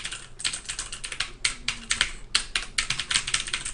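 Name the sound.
typing on mechanical keyboard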